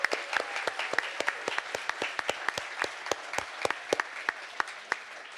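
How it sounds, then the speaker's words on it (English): Applause at a hardware conference prize ceremony, a fairly sparse crowd clapping with distinct individual sharp claps standing out over a softer continuous patter, steady for several seconds. "One more round of applause for everyone involved."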